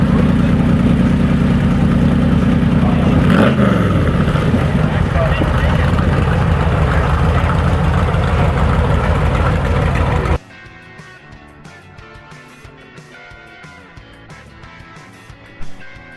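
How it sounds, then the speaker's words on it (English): A loud, rumbling hot rod engine idles close by at a Texas car show for about ten seconds, then cuts off abruptly, leaving a quieter background with faint voices. "Tom was nice enough to crank up his hot rod so we can hear the engine."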